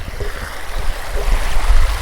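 Creek water rushing over rocks at the base of a deep ravine, a steady broadband wash with low rumble, continuous and fairly close, with no voices.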